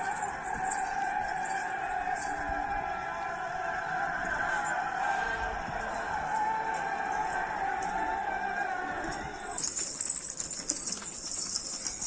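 Racing pigeons flap their wings around a coop in the open, soft repeated wingbeats over a steady background hum that shifts abruptly near the end.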